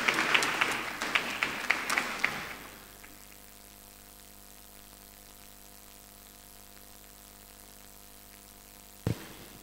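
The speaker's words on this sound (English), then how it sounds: "Please give him a warm round of applause as he comes to the podium" A burst of applause from a crowd at a Nigerian agro-industrial program launch, loud and dense for about two seconds, then fading to quiet room tone with a single thump near the end.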